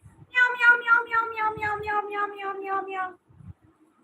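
A voice imitates a cat's meow in one long drawn-out harmonic cry lasting about three seconds, clear and close, with brief low talk-like sounds around it.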